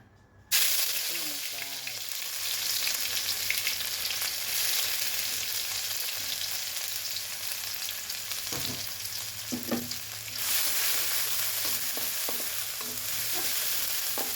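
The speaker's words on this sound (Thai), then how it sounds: "เรามาผัดข้าวผัดจับกังกันนะคะ" Meatless Thai labourer's fried rice is stir-fried in a pan, starting with a brief near-silence before a steady loud sizzle sets in, with occasional spatula scrapes and knocks against the pan.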